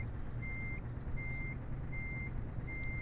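Reversing alarm of a heavy-haul truck in Euro Truck Simulator 2, towing an asphalt miller, beeping four times in a steady on-off rhythm over a low idling engine rumble.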